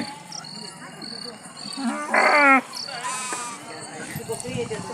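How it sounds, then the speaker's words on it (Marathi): Sheep bleat repeatedly at the Sant Balumama Bhandara gathering, one loud wavering call standing out among fainter ones, over a busy outdoor background with some talking. "तर इकडे बघू शकताय तुम्ही संपूर्ण भागामध्ये आपल्याला इकडे मेंढ्या बघायला मिळतात"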